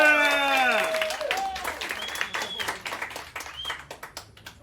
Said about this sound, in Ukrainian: на цю сцену виходить Ната Фандоріна під ваші гучні оплески